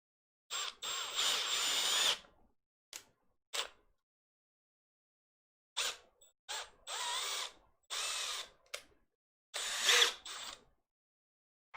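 Power drill boring with its bit during a Zonestar Z5F 3D printer build, in several loud whining bursts, a long opening run and then shorter spurts separated by silent pauses.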